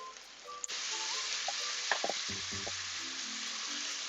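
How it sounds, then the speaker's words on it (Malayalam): Duck pieces fry crisp in their own fat with coconut oil in a pan, a steady close sizzle with scattered pops and brief scraping stirs, alone without voices. "ഇത് പരമാവധി ഇതിന്റെ നെയ്യിൽ തന്നെ വറുത്തെടുക്കാൻ നോക്കണം കേട്ടോ"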